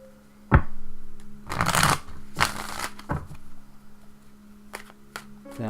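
A tarot deck is riffled a few times in quick, crisp bursts after a sharp tap, followed by lighter clicks of cards being squared.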